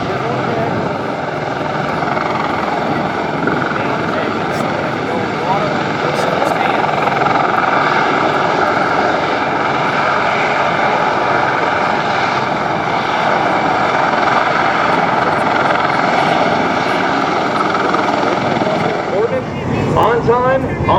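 A military helicopter flies a demonstration at a Marine Corps air station airshow, its loud continuous rotor and turbine roar steady and close for the whole span, with an announcer talking over it.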